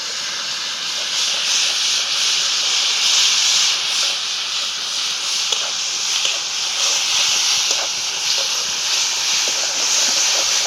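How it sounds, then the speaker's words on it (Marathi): Ground chilli paste sizzles in hot oil with a loud, continuous hiss that stays steady throughout, close and alone. "तर आता तेल चांगलं गरम झालंय मिरची त्यात वाटलेली टाकून घेते"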